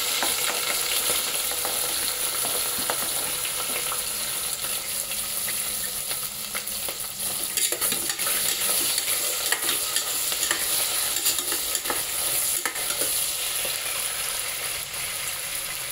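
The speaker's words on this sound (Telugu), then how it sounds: "ఫస్ట్ నేను ఉల్లిపాయలు, క్యారెట్ వేసేస్తాను." Sliced onions and carrots frying in a pan while being stirred, giving a constant close sizzle broken by scraping and clinking stir strokes throughout, with no voices.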